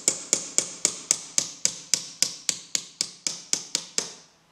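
A small hammer strikes a knife blade to split a hard cherry rootstock for cleft grafting: about fifteen sharp, evenly spaced metallic taps, close and crisp, with nobody speaking.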